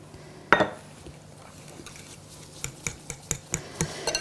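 Keto cream cheese muffin batter with Italian seasoning stirred in a bowl: one sharp knock, then a run of quick, light, evenly spaced spoon taps and scrapes, close and quiet.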